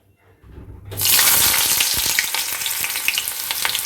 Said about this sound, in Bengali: দেখো তেলটা গরম হয়ে গেছে এবার আমি পেঁয়াজটাকে দিয়ে দিচ্ছি